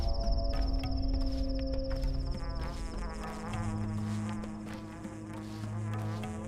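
Electric buzzing from a wire item lying in the open steppe in the video game Pathologic 2, a steady insect-like hum running continuously under ambient wind and faint tonal drones.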